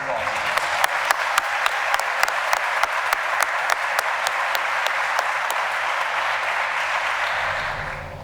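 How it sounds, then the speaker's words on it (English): Sustained audience applause at a high school senior recognition night for the Class of 2021, a dense steady wash of clapping with sharp individual claps standing out, holding level throughout and easing slightly at the end. "Join me in another round of applause."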